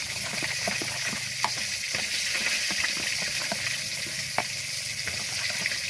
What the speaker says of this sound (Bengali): এই যে একে একে পেঁয়াজ, রসুন, আদা আর শুকনো ঝালের গুঁড়া দিয়ে এই যে সামান্য জল দিয়ে এখন মিশিয়ে নিচ্ছে